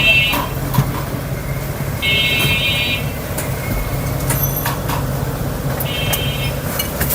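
A Toyota Corolla Axio Fielder Hybrid car sits running with a steady low hum and rumble, broken by a few short electronic beeps repeating at intervals.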